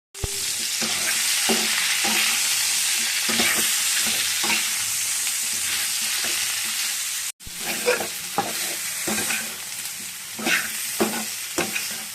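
Fresh fenugreek greens (methi saag) cooking in a pan, a loud continuous sizzle with repeated spatula scrapes and knocks, briefly cutting out before the stirring resumes.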